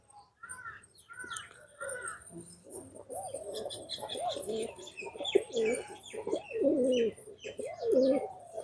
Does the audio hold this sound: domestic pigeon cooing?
yes